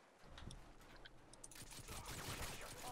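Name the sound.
gunfire in video game Modern Warfare 2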